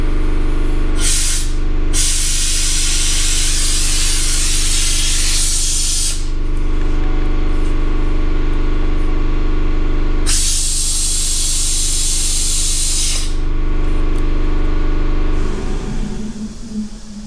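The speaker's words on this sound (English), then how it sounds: "hold the tool up to the neck of the cooling system hook my air pressure up to it" Loud, steady rush of compressed air hissing through an air-powered vacuum tool on a motorcycle's cooling system neck, with two sharper bursts of higher hiss, then the flow tapers off at the end.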